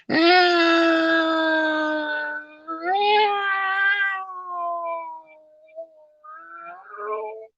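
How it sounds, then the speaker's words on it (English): Two cats yowling and caterwauling at close range, one drawn-out moaning wail followed by shorter rising and falling cries, loud at first and trailing off, with no talk over them. "the other cat is hovering over it"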